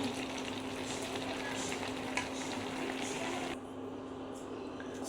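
Boiled leafy greens tempered in hot oil with torn dried red chillies, giving a steady, close sizzle and crackle of frying that softens slightly near the end, with no talking.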